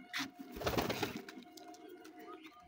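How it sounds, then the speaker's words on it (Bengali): Pigeons on a pigeon farm coo faintly, one bird attacking others, with a brief burst of scuffling, flapping rustle early on, then quiet murmuring coos. "এই যে আর একটা দুষ্ট কবুতর দেখে মারতেছে এরা"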